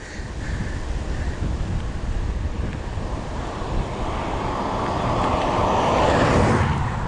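Strong headwind roaring across the microphone while riding a heavy 48-pound bike on a hot day, a steady broadband rush that builds louder toward the end, with no voices.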